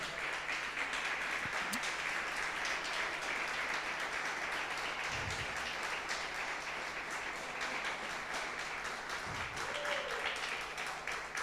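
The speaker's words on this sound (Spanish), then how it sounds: "dele un fuerte aplauso a Jesús por esta palabra" Sustained applause from a large church congregation, steady and continuous throughout, with a couple of brief low thumps.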